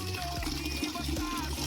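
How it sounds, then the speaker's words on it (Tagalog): Water runs steadily from a tap fed by a storage tank, a continuous close splashing flow with low gurgling underneath and no voices. "magtitesting tayo ng gripo. Kung tutulo na ang gripo natin galing dun sa ating tangke."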